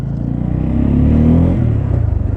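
A Bajaj Pulsar N250 motorcycle with an engine misfire fault, tested after a workshop repair, revs up loudly and steadily, swelling to a peak mid-way and settling back to a throbbing idle, with no talk.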